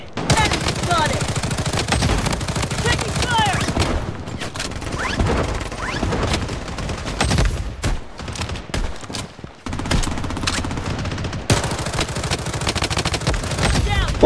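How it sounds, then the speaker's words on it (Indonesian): Rapid gunfire in the Blood Strike shooter game, dense bursts of automatic and heavy shots crackling nearly nonstop with brief gaps, loud and close, along with a voice talking. "Ada yang pakai shotgun di sini, guys."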